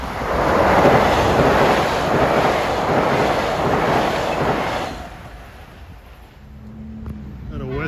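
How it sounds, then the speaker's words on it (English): A Metro-North commuter train from Grand Central to New Canaan, Connecticut, passes Mamaroneck station in the evening rush hour, a loud close rushing roar with wind buffeting that fades into quieter rumble and a brief tonal squeal. "Approaching at 5:44 is train 1752, Grand Central to New Canaan"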